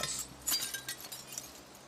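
A human voice imitates glass breaking during a tabletop Dungeons & Dragons game, producing a short burst of hissy, crunchy clinks and crackles about two seconds long, close and fairly quiet, with no other talk.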